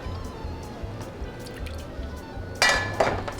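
Lime juice and house-made cinnamon syrup poured into jigger and glass for a Shark Bite tiki cocktail: soft drips and trickles under a low rhythmic background thump, then a bright clink and splash near the end.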